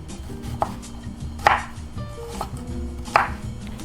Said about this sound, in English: We have a small onion, which we're also going to coarsely chop.